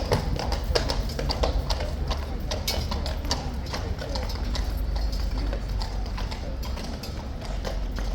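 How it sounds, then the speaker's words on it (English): Hooves of ceremonial King's Guard horses clip-clop steadily on pavement in a busy outdoor setting, a fast, continuous patter of close taps over crowd noise and faint background voices. "So the horse nearest to us is Guard, and the other horse is Revolver."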